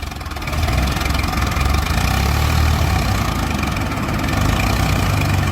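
A Swaraj 855 tractor working hard in a tractor-pulling competition, its heavy diesel engine droning loud and steady close by, with a slight surge in load after the first half second.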